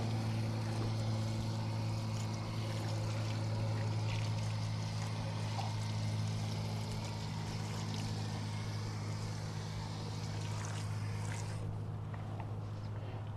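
Water from a fireman-style hose rinses a car wheel and wheel well after wheel cleaner, a steady continuous spray with a low rumbling drone throughout, close and fairly loud with no talking.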